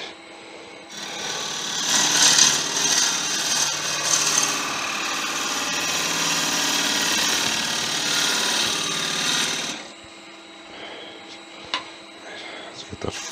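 A ball gouge cuts a wooden bowl spinning on a lathe, giving a steady, close scraping and hissing rasp for about nine seconds, then stopping and leaving quieter motor hum with faint knocks.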